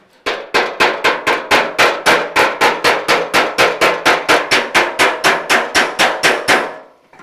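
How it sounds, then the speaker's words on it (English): Steady, rapid hammer blows on a weld seam in the steel fender of a 1956 Chevy, about two dozen even, ringing metallic strikes close to the mic before they stop. "when I'm hitting on this weld, it's crushing the weld out and flattening it"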